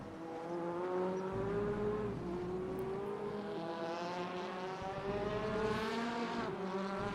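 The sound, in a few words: race car braking hard into a turn at Zolder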